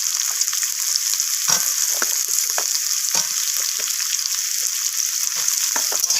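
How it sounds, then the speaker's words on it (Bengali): Mixed vegetables with red potatoes and pumpkin sizzle steadily in hot oil in a pan, a constant close frying hiss broken by occasional scrapes and clinks of stirring. "তো সমস্ত কিছু সবজি এইভাবে নাড়াচাড়া করে একটু ভাজা ভাজা করে নিচ্ছি"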